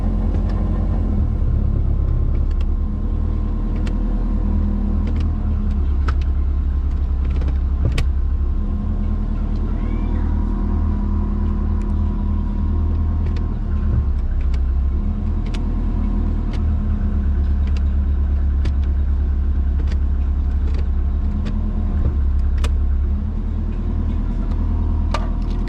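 A twin turbo Subaru Forester engine runs steadily after start-up with a close, deep rumbling idle that stays constant, with faint small clicks and ticks over it.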